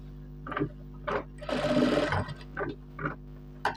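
A sewing machine runs along a shirt's shoulder seam in short taps and then one longer stitching burst, close but fairly quiet over a steady low hum.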